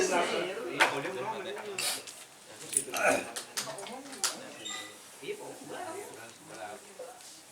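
Spoons and dishes clink and clatter close by in scattered sharp bursts, with people talking over them through most of the stretch.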